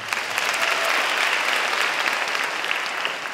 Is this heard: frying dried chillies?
no